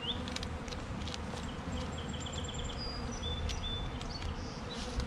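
Dense, steady buzzing of many honey bees from a shipped package being installed into a hive, a continuous near swarm hum with individual bees zipping past close by.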